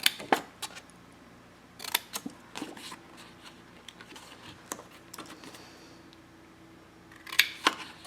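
Scissors cut squares out of scored craft paper for a vintage library album, making sharp, close snips in sparse clusters over a quiet background.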